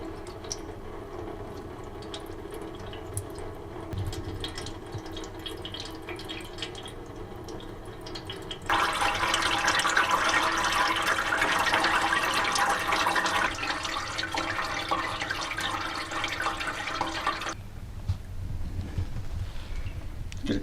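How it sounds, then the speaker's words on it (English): Old fluid draining from a squarebody truck into a catch pan after a few bolts are pulled, a steady trickling stream that swells into a louder, fuller pour midway before easing back to a thinner flow. "we went ahead and pulled a few bolts out and started letting it drain"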